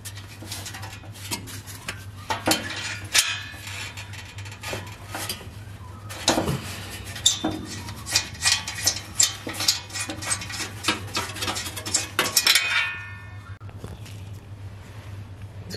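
Metallic clinks, ticks and ratchet-like clicks from unbolting a metal shield held by 10mm bolts on a Toyota Prius V, close by and irregular over a steady low hum, with dense bursts near the end.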